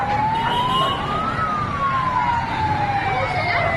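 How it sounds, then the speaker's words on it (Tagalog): An ambulance siren rises and falls in a slow sweep over steady traffic noise near a fire in Taytay, Rizal, Philippines, loud and fairly close, with no one speaking. "Ay, ambulansya yan."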